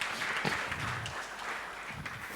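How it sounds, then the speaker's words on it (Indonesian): A congregation at an online church service applauds, a dense wash of clapping that carries steadily through the moment with no one speaking. "Yang harus berikan tepuk tangan meriah buat Tuhan kita."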